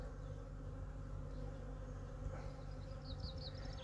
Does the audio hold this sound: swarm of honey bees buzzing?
yes